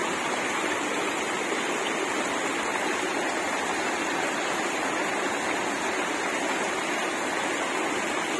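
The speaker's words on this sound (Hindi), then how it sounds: "पानी आ रहा है नालों में है" Water rushes through small streams and little waterfalls in a constant, dense roar that stays steady throughout with no pauses.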